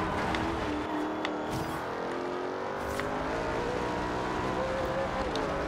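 A BMW M6 engine roars in the racing game Forza Horizon 2, a sustained loud engine note that rises and shifts in pitch while accelerating, with faint voices underneath.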